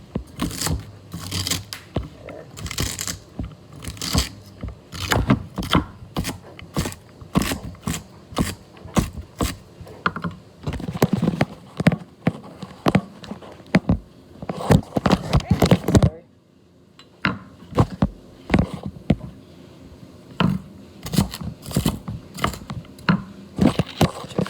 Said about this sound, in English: Celery chopping away.